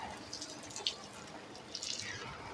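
Water splashes and drips softly as two white ducks bathe at home, light scattered droplets and small splashes at low volume.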